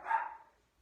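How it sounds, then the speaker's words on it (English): A dog gives a single short bark at a distance indoors, a muffled woof that fades out quickly into quiet. "those are the dogs barking at somebody that made a thump"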